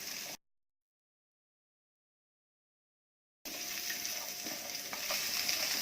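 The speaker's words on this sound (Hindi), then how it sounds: "प्याज और कैप्सिकम को 1-2 मिनट तक भूनेंगे।" Onion and capsicum stir-frying in a pan for chilli chicken over low gas, a steady crackling sizzle with faint scraping, heard briefly at the start, then a gap of silence before the sizzling resumes and carries on.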